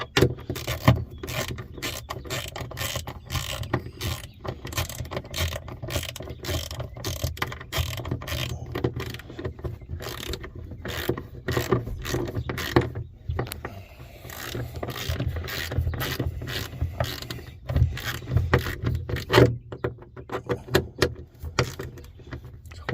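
Ratchet clicking steadily as it tightens a long, heavily threaded bolt into a tie down point, a dense rapid run of mechanical clicks continuing close up for the whole stretch with no talking.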